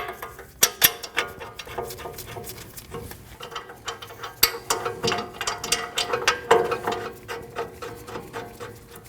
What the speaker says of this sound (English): Slide your caliper over your rotor and install your 2 bolts.